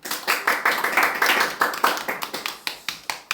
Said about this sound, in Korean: 우리 박수로 환영해 주시면 좋겠어요.